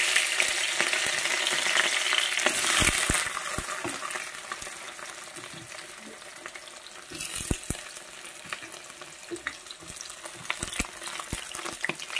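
Onions frying in a pan crackle and sizzle continuously, loud at first, then easing, with occasional sharper pops and scraping stirs, close up and without talk.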